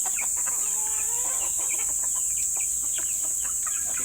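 Farmyard chickens, including Rhode Island hens, cluck and cackle at feeding time, with several birds calling in overlapping bursts against a steady background hiss.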